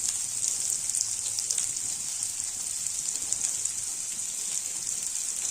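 Sliced onion sizzles steadily in a pan with a continuous bright crackle and hiss, close and even throughout, with no voices.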